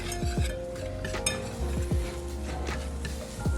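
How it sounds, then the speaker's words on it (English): Flour is stirred into melted butter in a pot, giving repeated metallic scrapes and clinks of a utensil against the pan over a faint sizzle, close and steady. "Now I'm going to stir it."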